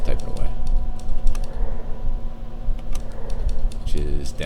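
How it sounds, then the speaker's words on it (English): Keyboard typing with a steady patter of quick key clicks, fairly close, over a busy room background with faint talk and a brief voice near the end. "Oh, he's typing away."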